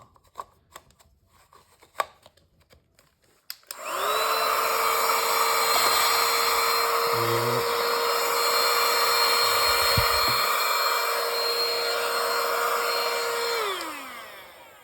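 A portable rechargeable 3-in-1 vacuum cleaner switches on after a few faint clicks and runs with a loud, steady high-pitched whine for about ten seconds, then winds down as it shuts off.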